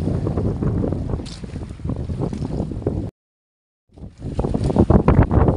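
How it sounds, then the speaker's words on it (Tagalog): A small fishing boat at sea pitching on large waves in strong wind, loud buffeting wind rumble and water noise close to the microphone, cutting out to a brief silence before returning. "Dinuduyan yung bangka."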